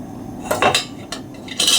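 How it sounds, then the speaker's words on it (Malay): A metal lid is set onto a small cooking pot on a stove, giving a few close, sharp clattering clinks of metal on metal, with a brief rattle as it settles. "Saya tutup api, tutup periuk."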